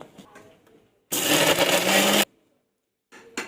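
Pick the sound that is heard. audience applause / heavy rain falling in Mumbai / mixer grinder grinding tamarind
mixer grinder grinding tamarind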